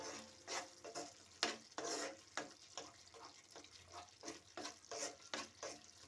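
Carrot halwa with melted sugar stirred in a pan, heard as soft rhythmic scraping and gentle bubbling strokes repeating about every half second, close but fairly quiet, with no speech.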